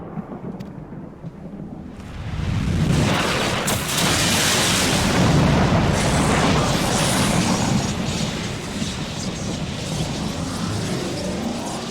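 Heavy rain and rolling thunder in the Final Fantasy XIV game swell from a quieter start into a loud, sustained roar of downpour and rumbling booms that continues to the end.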